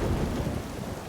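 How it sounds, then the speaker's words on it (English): Heavy rain pours in a downpour on a crumbling cliff, a dense, loud, continuous roar with a low rumble of thunder beneath, no voices. "Their flimsy waterproofs are no match for the deluge."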